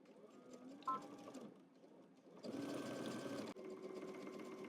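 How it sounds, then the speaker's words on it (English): A sewing machine stitches a jacket seam in short runs of rapid mechanical whirring, pausing briefly and then resuming at a steadier pace, fairly quiet and close. "let's head to the machine and we're going to stitch this down all the way around using 5/8 of an inch seam allowance"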